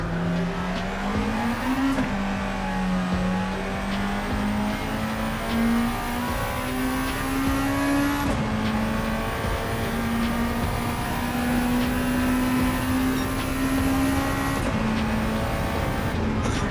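Honda EF Civic Si with a B18 engine driving in Gran Turismo 7, its engine drone climbing steadily through the gears with brief shift breaks, loud and continuous with no talk.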